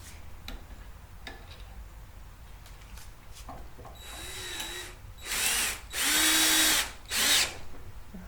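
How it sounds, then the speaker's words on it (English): Cordless power drill driving screws into an industrial-style lamp, with light handling clicks followed by three short whirring bursts, close and clear. "And then you will use the drill."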